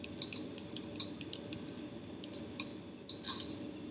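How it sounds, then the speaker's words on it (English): A mixture in laboratory glassware is stirred to dissolve a white solid in water during benzoic acid preparation. Quick, light glass clinks repeat in a steady rhythm, close and alone. "Keep stirring the mixture until all of the white solid has dissolved."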